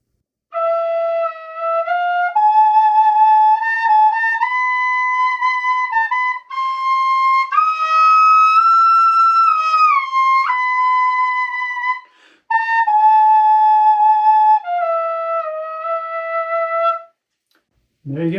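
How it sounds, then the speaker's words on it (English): A whistle plays a Byzantine (Namaste) scale as a series of clear, sustained notes that step through the scale one after another. The notes are loud and close, with brief breaks between some of them. "Byzantine scale on the whistle."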